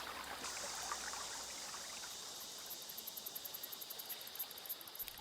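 A river flows past the old Quanzhou maritime customs house, giving a faint, steady wash of moving water with a thin high chirping layered over it and no voices.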